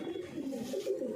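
Pet pigeons coo softly in a short, low, warbling burst, close by and steady, with no talk over them.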